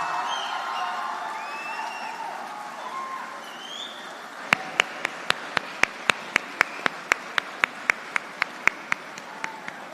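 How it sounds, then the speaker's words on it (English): Convocation audience at PES University applauding a PhD graduate: a diffuse crowd murmur first, then a run of sharp, evenly spaced claps ringing out close to the microphone, about fifteen beats over the last five seconds. "it deserves this kind of applause"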